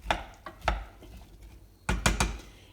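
A spoon stirs apple compote in a pot, with a few sharp clacks against the pot in two separate clusters over a faint, quiet background.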